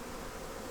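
Close, steady buzzing of many bees during a bee rescue, a continuous droning hum with no pauses.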